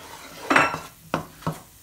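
Garlic dropped into a hot pan with seared pineapple, a short burst of sizzle followed by two quick clacks of a utensil against the pan, close and fairly quiet.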